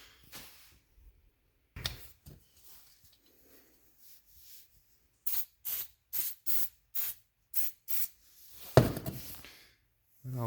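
Throttle body cleaner sprayed from an aerosol can onto parts of an Arctic Cat ZR 600 EFI snowmobile, heard as one short hiss and then a series of about eight quick close bursts in a quiet room.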